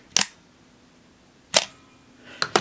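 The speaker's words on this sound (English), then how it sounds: "we can open up the back and watch the action of the shutter" A Pentax K1000 SE 35mm SLR film camera with its back open fires its shutter three times, each a crisp, close mechanical snap separated by silence, the last a quick double click.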